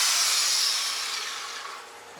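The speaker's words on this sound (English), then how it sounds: "Always seems so wrong to drill a hole in a boat" Drilling a hole through a boat hull on a hot Georgia day during lightning strike repairs: a steady, close, high-pitched grinding and rasping that starts loud and fades gradually over about two seconds, with no talk.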